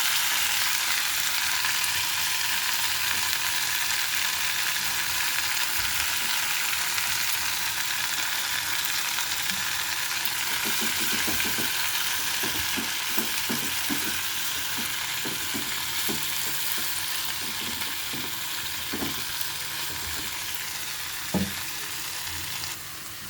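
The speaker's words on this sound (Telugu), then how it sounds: "అదే నూనెలో పుదీనా వేస్తున్నాను." Mint leaves fry in the oil left in a pan, giving a long continuous hissing sizzle with a cluster of small crackles and pops partway through, no talking.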